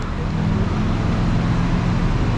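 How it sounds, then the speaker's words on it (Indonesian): City street traffic in central Kuala Lumpur, a dense continuous roar of passing cars and buses close by, rumbling and unbroken throughout. "beginilah suasana kota raya"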